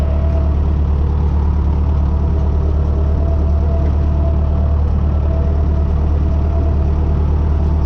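A David Brown 996 tractor engine drones steadily while driving, a loud, close, low diesel rumble with a constant throbbing beat and no voices over it.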